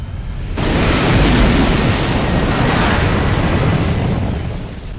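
A massive, sustained blast roars in abruptly and rumbles on for several seconds, loud and dense, as an explosion erupts near a departing plane in the survival horror game Resident Evil Code: Veronica.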